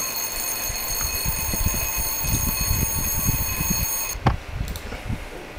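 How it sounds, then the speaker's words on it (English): Alarm clock ringing steadily in the horror game Cat's Cradle, a continuous loud electronic ring over a dark ambient background that cuts off abruptly near the end, followed by a brief thud. "The alarm clock is so annoying. Go ahead and turn it off."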